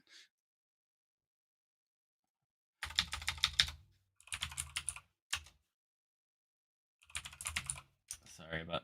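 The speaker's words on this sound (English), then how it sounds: "Sorry about my keyboard if it's super loud. I'll try to type quietly." Computer keyboard typing during an online tech meeting: a short faint tap, then several bursts of rapid clattering keystrokes with pauses between, close to the microphone, with no talk over them.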